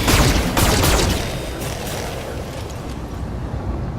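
Mech weapons fire in the Battletech video game, a loud dense volley of blasts at the start that fades into a rumbling wash of impacts and debris.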